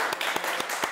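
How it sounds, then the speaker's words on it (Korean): Students clapping at the end of a university class, a brief burst of fairly loud, roughly even claps with several sharp beats in quick succession. "자, 수고하셨습니다. 박수 한번 치고."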